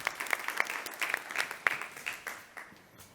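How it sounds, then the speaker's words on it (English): A small audience at an energy technology summit claps for the first panel: sparse, distinct handclaps at close range, loosely rhythmic, thinning out after about three seconds. "come on, a round of applause"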